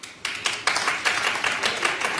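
A television studio audience clapping in a short, uneven burst of hand claps that starts suddenly and stays moderately loud without fading.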